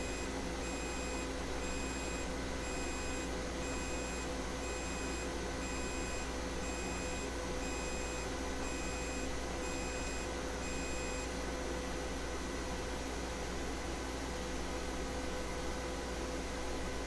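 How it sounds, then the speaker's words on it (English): A steady, repeating electronic beep pattern from a Bluetti portable power station with B230 expansion battery under a 2.4-kilowatt load, over constant loud hiss and hum, stopping partway through while the noise continues. "Now we're getting an alarm in the Bluetti."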